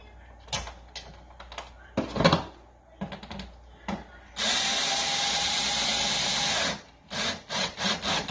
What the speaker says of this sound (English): we just need to put screws in each of the 4 holes there with the washers